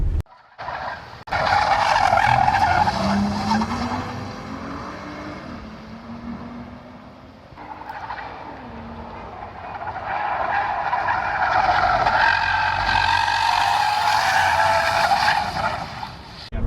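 Race car tires squealing and skidding on a track during an instructor ride-along, a long sustained screech under engine roar, easing briefly midway before rising again, loud and close.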